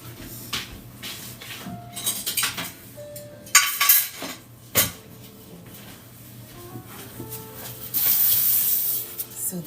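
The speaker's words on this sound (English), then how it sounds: "Let me get another pan." A metal baking pan for Valentine's Day sugar cookies is pulled out and handled, giving loud clanks, scrapes and rattles of cookware in bursts, then a longer rushing hiss near the end.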